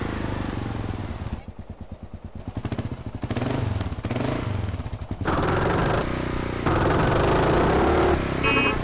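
A Kawasaki KLR 650 motorcycle in Grand Theft Auto buzzes and putters with rapid pulsing, shifting pitch and intensity as it rides along, with a brief higher whine near the end.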